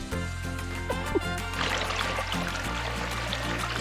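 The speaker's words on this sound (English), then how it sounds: "So we've got a little freshwater creek here." A small freshwater creek flowing, with close pouring and trickling water over a steady low hum, and a few knocks and splashes.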